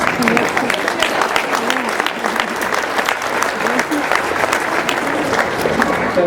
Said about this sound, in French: Donc, on peut applaudir les dames.